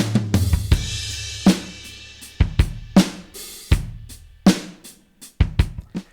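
Drum loop whose kick and snare are pushed louder by upward expansion, giving a steady groove of sharp, punchy hits over a low sustained bass, with cymbal wash trailing each strike; no voices.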